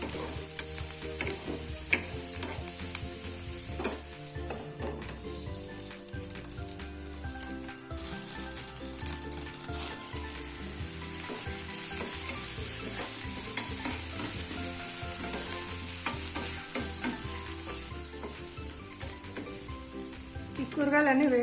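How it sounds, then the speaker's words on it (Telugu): Carrot and bean pieces sauté in oil with a continuous close sizzle, punctuated by intermittent stirring scrapes and clatter of a utensil against the pan. "ఒక 2 నిమిషాల సేపు ఆయిల్లో మగ్గించుకోవాలి."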